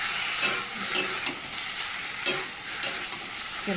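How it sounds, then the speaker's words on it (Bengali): Onions frying in fish oil in a home kitchen pan, a steady close sizzle with several sharp spatula stirs and scrapes popping up at irregular intervals. "মাছের তেলটা ওদিকে ভালো, ওদিকে পেঁয়াজটাও ভাজতে দিয়েছি"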